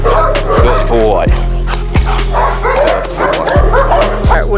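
During protection training at a purebred dog kennel, a dog barks loud and close in a steady run of sharp barks and yips, with some whimpering and people talking underneath.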